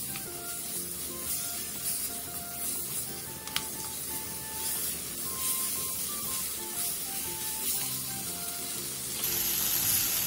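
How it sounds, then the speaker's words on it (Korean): Potatoes stir-fry over high heat for a Korean soup or stew, giving a steady close sizzle and hiss with faint scraping of stirring throughout, slightly louder near the end. "감자를 넣고 감자의 겉면이 살짝 투명해질 때까지 센 불에서 볶아주세요."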